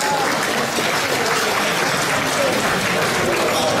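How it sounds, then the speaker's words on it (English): A banquet hall crowd at a Chinese community Lunar New Year charity gala gives a round of applause, a thick, steady roar of many clapping hands filling the whole stretch without a break. "We must give them a round of applause."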